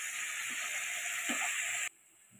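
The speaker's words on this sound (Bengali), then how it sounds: "অল্প অল্প করে জল দিয়ে মশলাটা কিন্তু খুব ভালো করে কষিয়ে নিতে হবে।" Spice paste for a Bengali fish curry fries in a pan with a steady, close sizzle and hiss, the bright frying noise dropping away abruptly near the end.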